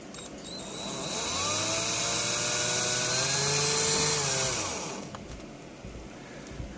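A drill winds up and spins steadily for several seconds, twisting wire into a fused clapton coil, with a close whirring whine that rises and then slows to a stop.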